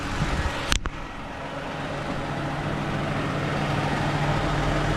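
A Lexus RX350 engine runs at a steady, quiet idle after an oil change, a low even hum following a brief sharp click near the start.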